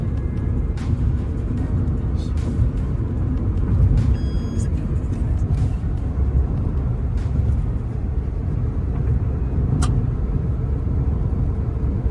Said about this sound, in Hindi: ये है धोलेरा एयरपोर्ट की रनवे स्ट्रिप, जिसके ऊपर अभी हम गाड़ी लेके चल रहे हैं।